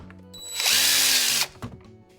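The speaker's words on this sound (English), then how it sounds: "And the drill has a lot of torque as well, but it will not apply that instant hammer action." A DEWALT 20V Max cordless drill spins up in a loud, high whine for under a second, then stops, with clicks and mechanical knocks before and after.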